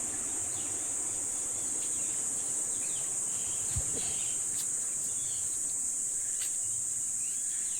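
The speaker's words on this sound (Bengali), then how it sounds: "ঝিঝি পোকার ডাক শোনা যাচ্ছে সকালবেলা।" Crickets chirp in a hill forest on a morning, a steady high-pitched trill running throughout at moderate distance, with a faint bird note and a soft thump partway.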